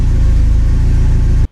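Porsche 944 Turbo engine note as the throttle is released, a loud, steady low rumble held close for about a second and a half before cutting off abruptly.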